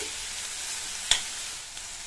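Tomatoes sautéing with salt in a pan for an idli kuruma, a steady close sizzle with one brief sharp tick partway through and no voices.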